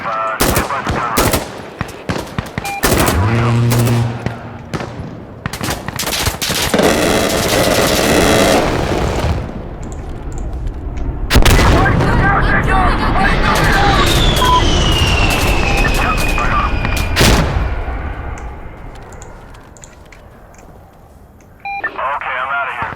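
Strafing run in Insurgency Sandstorm, with loud bursts of gunfire and booming explosions that come in clusters and then a long rolling rumble, mixed with radio chatter and voices talking over the action.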